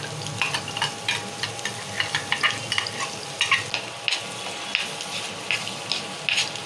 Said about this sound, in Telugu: ఇది నూనెలో మంచిగా మగ్గించుకోవాలి ఈ మసాలా నూనె ఎంత మంచిగా ఉడితే అంత మంచిగా ఉంటుంది